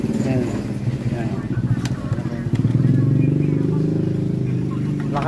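Honda Click 125 scooter engine with a freshly cleaned CVT and 12 and 13 gram rollers, idling with a low rumble and then revving to a steadier, stronger drone, with talk over it.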